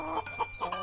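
A cartoon hen in an animated Hindi moral story gives a short, close run of three or four quick clucks, with no talk.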